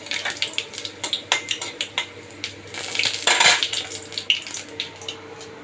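Panch phoron spices hitting hot oil in a home kitchen, with clattering pots and utensils, stirring and bursts of sizzling over about five seconds, no talk.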